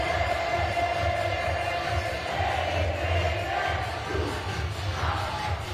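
Loud, steady crowd roar fills a stadium at an opening-night Banana Ball World Tour game, with broad cheering sustained throughout and no distinct pauses.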